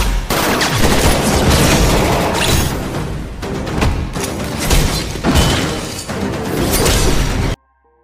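Heavy gunfire in an action film battle as a special forces team showers an enemy with bullets: dense, loud, continuous volleys with booming bursts, cutting off abruptly at the end.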